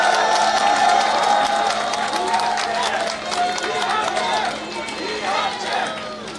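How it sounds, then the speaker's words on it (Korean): A crowd applauds and cheers at an outdoor campaign launch rally for a presidential candidate on a rainy Monday. The noisy, steady clapping is mixed with crowd chatter and voices, fluctuating in loudness throughout. "큰 박수로 맞이해 주십시오"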